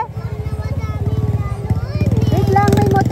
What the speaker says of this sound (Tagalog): Wait lang, may motor.